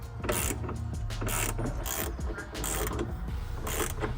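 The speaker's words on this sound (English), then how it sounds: "I'll grab the wrench and tighten them" A wrench ratchets and creaks as side mirror bolts are tightened on a 2010 Chevy Tahoe LTZ, repeated mechanical clicking bursts close by over a steady low hum.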